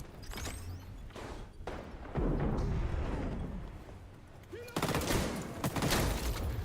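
Bursts of shotgun fire in the online shooter XDefiant, several heavy blasts and rapid volleys with gaps between them, loud and close amid chaotic match noise, with no voices over it.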